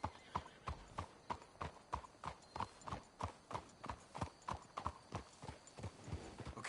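Steady clip-clop of horses' hooves on a road in Red Dead Redemption, near-regular sharp knocks about two to three per second continuing throughout, fairly quiet with a faint background hum and no talk.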